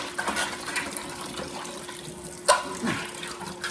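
Empty cans are rinsed under a running kitchen tap: a steady stream of water splashes and gurgles inside the metal, with a louder slosh midway, close and with no talking.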